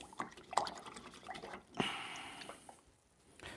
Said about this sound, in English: Now I'm going to wash that brush